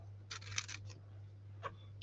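Scissors cutting a nail file pouch, with a short run of crisp snips early and another single snip near the end, over a quiet steady hum.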